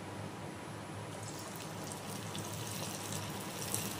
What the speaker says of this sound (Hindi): इधर तेल गरम हो गया है, अब इसमें हम बॉल को डालेंगे।